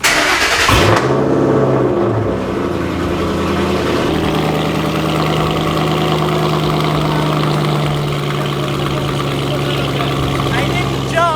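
A straight-piped Ford Mustang GT fires up from a cold start with a sharp crack, then settles into a loud, rumbling, uneven high idle that stays dominant for the rest of the clip, with faint voices beneath.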